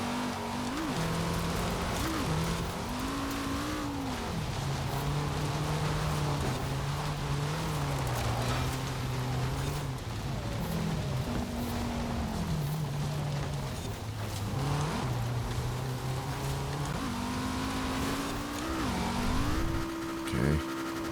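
A car engine revs in the Forza Horizon 4 racing game, its tone climbing and dropping through gear shifts over a constant hiss, steady and loud throughout with occasional voice behind it.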